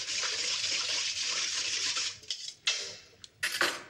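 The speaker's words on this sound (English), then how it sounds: "Now, just whisk that up." Lemon juice marinade for beef being whisked in a bowl, a close, steady swishing that breaks into a few short separate strokes at the end, with no talking.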